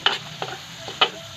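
Chicken frying in a pan gives a soft, ongoing sizzle, broken by three sharp, close scraping or stirring strokes spread over just over a second.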